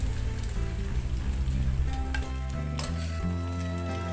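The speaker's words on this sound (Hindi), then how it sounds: "देन वेजीज फ्राई करेंगे, जिसमें शिमला मिर्च और कैबेज हैं" Capsicum and cabbage stir-frying in a pan for Chinese fried rice, a constant sizzle running beneath tonal background music, with no speech.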